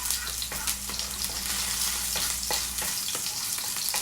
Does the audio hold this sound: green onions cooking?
yes